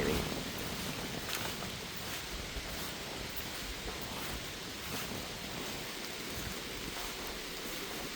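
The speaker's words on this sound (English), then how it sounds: "Oh, and it's raining." Rain falls in the woods, a soft, steady hiss of drops on leaves and ground, continuous and fairly faint throughout.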